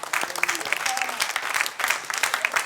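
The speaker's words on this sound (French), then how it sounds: "Est-ce qu'on peut applaudir la parole du Seigneur ce matin?" A church congregation at a Sunday service applauds, a dense, lively burst of clapping from a crowd filling a room, steady throughout with a few voices mixed in.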